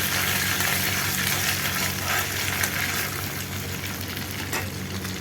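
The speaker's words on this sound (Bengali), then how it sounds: "এতে একটু ভাজা ভাজা করে নিচ্ছি।" Chhena curry base sizzling steadily in hot white oil with cumin, bay leaf and whole garam masala, a continuous close frying hiss with no talk.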